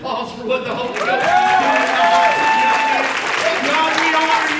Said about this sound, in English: Church, I want a round of applause for what the Holy Ghost is